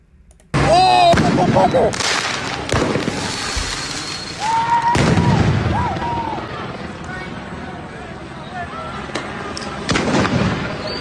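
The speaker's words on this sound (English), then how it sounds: "So they were shooting fireworks at the police last night." Fireworks fired at police during the LA riots pop and bang in sharp bursts amid a crowded street, with people talking and shouting and a whistle-like streak overhead.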